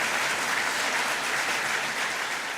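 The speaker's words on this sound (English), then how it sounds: "So give yourselves a big round of applause." Steady, dense applause from a college audience at Hudson Valley Community College during a presidential visit, loud and continuous throughout with no talking over it.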